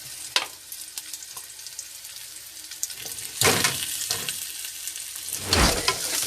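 Onions being stirred and sautéed in a pan alongside fried pork chop, close sizzling with spatula scrapes and taps, and two louder bursts of hissing splatter, the last swelling near the end.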